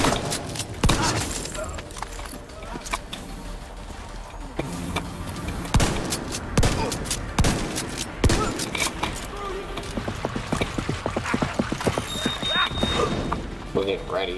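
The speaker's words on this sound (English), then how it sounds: "Is that gunfire?" Video game gunfire crackles in scattered bursts amid crashes and thuds, with game voices talking over the action.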